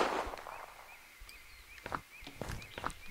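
Gunfire in the zombie survival game Unturned at a military base: a few sharp, separate shots crack out at irregular intervals over a thin electronic whine, moderately loud and with no talk over them.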